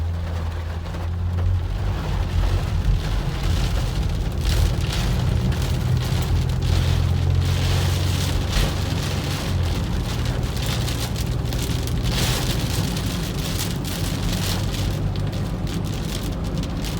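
Rain pelts a Ford Windstar van while it drives, a steady loud hiss of drops on the body and glass over a low road and engine rumble, continuous throughout with no talking.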